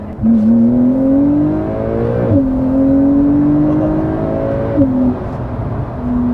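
A Porsche 718 Cayman GT4 with PDK in Sport mode revs loudly and steadily, its engine note rising and falling with quick shift-like dips, crackling exhaust burbles mixed in from inside the cabin.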